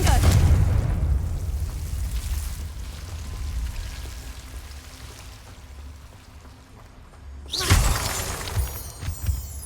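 A Confringo fire spell blast in Hogwarts Legacy, heard as a sharp burst with a shattering crackle that rises loud near the end after a stretch of low, rumbling game ambience.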